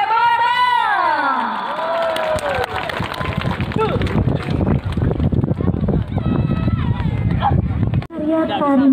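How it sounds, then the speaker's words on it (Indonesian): A festival crowd in Nagari Tabek Patah cheers, shouts and claps after a mass dance at Festival Talago Kamba, with dense sustained noise following a voice heard at the start. "sekali lagi kita beri tepuk tangan yang meriah untuk penampilan tari masal anak nagari Tabek Patah"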